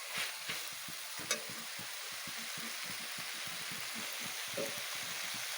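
Boiled potato and spices sautéed in a pan: a low, steady sizzle with soft spoon-scraping taps repeating at an irregular pace, heard close up and without talk.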